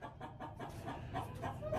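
Chickens clucking softly nearby, a faint string of short murmuring clucks and calls under quiet background noise.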